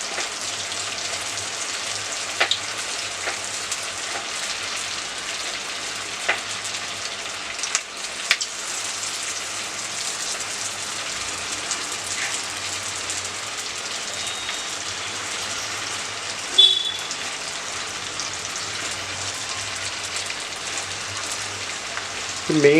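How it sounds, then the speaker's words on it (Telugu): Cabbage manchurian balls deep frying in hot oil, a steady hiss and crackle of bubbling oil lasting throughout, moderately quiet with a few sharper pops and clinks along the way. "ఈ మంచూరియా బాల్స్ అన్నీ కూడా గోల్డెన్ బ్రౌన్ కలర్లోకి వచ్చే విధంగా ఫ్రై చేసుకోవాలన్నమాట"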